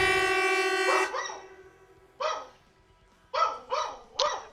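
A dog barks in short sharp bursts, four or five loud nearby barks with pauses between, following a sustained harmonic tone at the start; no talking.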